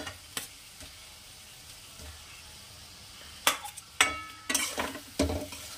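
Pre-fried potatoes are stirred into a spice masala in a pan for a Bengali katla fish curry. A low, quiet sizzle sits under sharp scrapes and clinks from a spatula, which come in irregular bursts toward the end.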